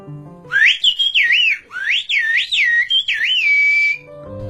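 Whistled language from a remote Turkish village: a loud, nearby whistle that glides up and down in quick, speech-like phrases before holding one long final tone.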